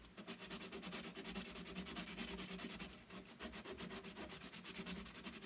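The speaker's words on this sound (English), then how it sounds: "All you have is just plain sandpaper." Plain sandpaper rubbed by hand over the cut end of a shortened metal towel bar, rapid rhythmic back-and-forth rasping strokes, close and clear, with a brief pause midway and no speech.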